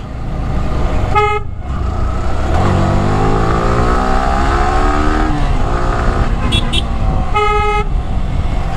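A motorcycle's loud, piercing horn blares in two short bursts, once near the start and once near the end, over its running engine that revs and climbs in between.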